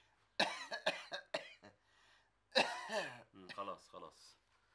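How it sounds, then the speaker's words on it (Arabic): A person coughs in a rapid series of harsh bursts, pauses, then coughs and clears their throat again with voiced, rasping sounds. "الكحه دي عندك من امتى؟"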